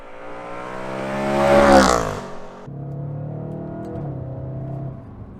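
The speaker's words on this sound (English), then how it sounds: "The way it rattles off those shifts at higher RPM is so addictive." A 2013 Audi RS5 engine revs hard at high RPM, climbing to a loud peak, then dropping sharply as it rattles off a quick upshift before pulling again at a lower, steady drone.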